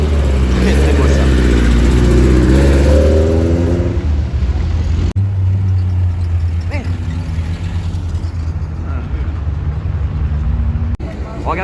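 A Ferrari 330 GT 2+2 arriving on a city avenue, its engine a loud, steady low rumble that swells early on and then settles into a continuous drone, with people talking nearby throughout.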